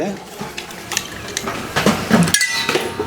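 A mixture being stirred in a glass, with quick spoon clinks and tinkles against the glass, close and fairly loud, while a person talks over it.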